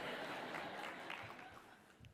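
Audience applause at a business conference keynote, a dense wash of clapping from a large crowd that holds steady then tapers slightly over two seconds, with a few faint voices mixed in.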